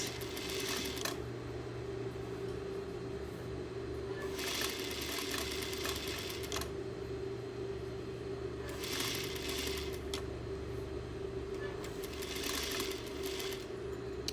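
A sewing machine hums steadily while sewing a fabric casing around a rigid structure, with periodic bursts of faster, rattling stitching over a low motor drone, heard fairly faint and without talk.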